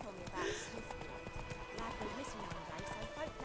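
Hooves of Roach, a horse in The Witcher 3, clattering in a quick galloping rhythm under a voice, with game music and ambience mixed in.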